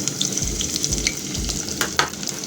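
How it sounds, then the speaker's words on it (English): Onions for egg curry hitting heated oil, a steady crackling sizzle with periodic low stirring thumps under it, close and fairly loud with no talking. "So I think our oil has heated, so I'm going to add my onions."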